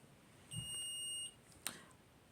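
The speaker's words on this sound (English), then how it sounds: "If you're asking what that beeping was" A short, high electronic beep from a watch sounds once, followed by a faint click, quiet against low background noise.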